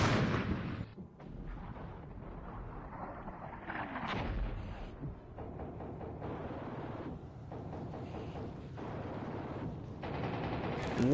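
In the Armored Brigade 2 war game, aircraft strafe vehicle platoons with bursts of rapid gunfire and booming explosions, rumbling battle noise that rises and falls over about eleven seconds.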